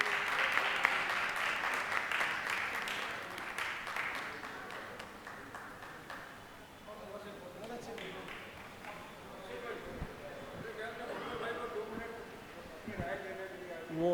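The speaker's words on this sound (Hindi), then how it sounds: "तालियों के बीच" Audience applause at an Urdu literary festival held at a library in Mumbai, a sustained burst of clapping from a crowd that fades into scattered claps while people talk.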